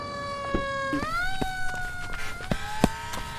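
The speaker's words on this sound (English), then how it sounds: "Wait, those are sirens." A video game siren wails, rising and holding its pitch, mid-distance, near a burning house, accompanied by sharp clicks and thumps scattered throughout.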